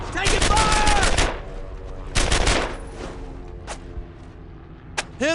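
Rapid gunfire in a World War II firefight in Brothers in Arms: Earned in Blood, two long loud bursts of automatic fire followed by scattered single shots, close and sharp, with shouting voices mixed in.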